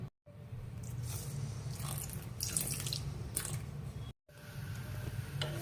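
Steady running water pours continuously into a pan of jaggery on low heat for several seconds, close and fairly loud, with a brief break near the end before resuming.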